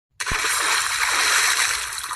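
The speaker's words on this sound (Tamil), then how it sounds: "ஏய் தண்ணி தெளிச்சு விடுறா." Water is sprinkled onto a person in a short, close burst of splashing and spattering that lasts about two seconds, with no speech.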